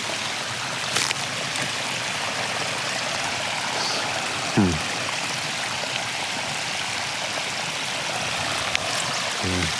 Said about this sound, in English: There's still loads of water running down off the mountain here, the hill.